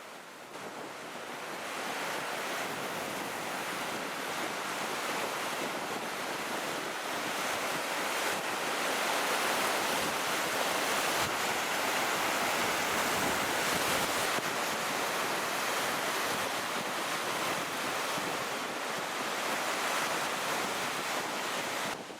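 Sea surf roars continuously against a cliff shore at Orłowo, a dense wash of breaking waves mixed with wind noise, loud and steady without talk.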